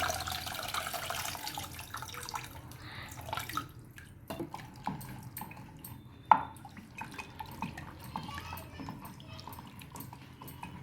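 Water poured into Telangana-style pappu charu (dal) with tamarind during cooking, a soft dripping, trickling sound over a low kitchen background, with a few sharp clinks.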